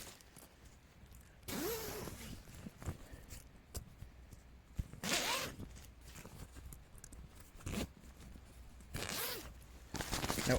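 A zipper on the door of a Vango Force 10 tent is pulled in three separate drawn-out zips, each a rasping rise and fall, close and clear with quiet gaps and small handling sounds between.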